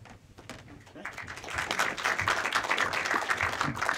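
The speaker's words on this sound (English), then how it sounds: "let's save the applause for afterwards" A conference audience applauds after a speaker's introduction at a JDK 9 and OpenJDK talk, moderately distant clapping building over a few seconds and continuing steadily.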